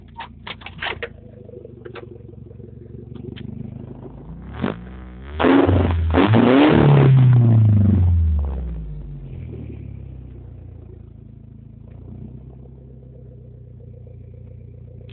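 A car engine with a suspected fuel or spark plug fault sputters at idle, then the driver gives it gas and it roars up for a few seconds in a loud, rising rev before settling back to a low idle.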